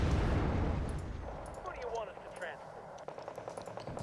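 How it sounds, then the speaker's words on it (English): Explosions and heavy booming from an airstrike in the real-time strategy game Wargame: Red Dragon, a loud rumbling burst at the start that fades into scattered crackling blasts and pops, with faint voices mixed in. "Airstrike coming in hot"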